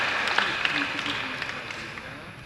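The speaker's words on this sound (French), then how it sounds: "Ensemble, nous applaudissons pour dire bonne fête." A church congregation claps together for a feast-day greeting to the clergy. The applause is faint and diffuse and carries a sense of the room, with some voices mixed in. It tapers off over a couple of seconds.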